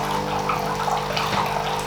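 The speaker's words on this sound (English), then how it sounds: "This is just going to squirt hot water in, top up to the desired level, exactly where you want." Hot water squirting from a Sage Barista Pro espresso machine into a cup, a steady hiss of pouring water over the machine's low pump hum, close and constant.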